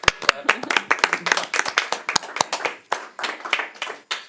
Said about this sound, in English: Can we clap? Yeah, we can clap.